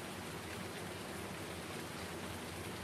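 Steady rain falling on a farm, a dense, even hiss that holds at a constant level with no pauses and no voices over it.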